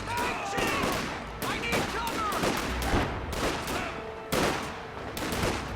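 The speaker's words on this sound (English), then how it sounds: "Probably going to get run down by these riflemen again. Taking effective fire!" Bursts of rifle and machine-gun fire crackle through a video game battle against riflemen, dense and continuous with repeated volleys, while a player speaks briefly over the shooting.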